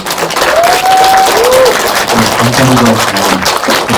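Audience applause at a Korean film festival screening talk and fan event, a dense, steady wash of clapping from a large crowd throughout, with a few faint voices mixed in.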